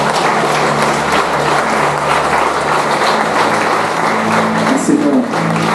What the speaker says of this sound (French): Applaudissons le Seigneur.